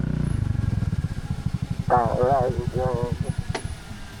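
A motorcycle idles with a steady, loud putter while the riders arrive at a riverside camp and resort in Libmanan, Camarines Sur, and people talk over the engine.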